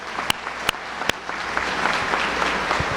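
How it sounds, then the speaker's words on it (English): A high school graduation crowd applauds friends and families, with a few sharp, loud claps close by at the start before broad clapping from the audience swells and holds steady. "Let's give a quick round of applause for our friends and families for all they've done for us."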